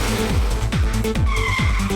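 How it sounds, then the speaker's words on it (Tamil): Cartoon car braking hard and skidding into a turn: repeated loud tire squeals with descending swoops over a steady engine drone, close and continuous, with background music tones. "வேகமா வந்து பிரேக் போட்டதுல வண்டி டர்ன் ஆயிடுச்சுமா"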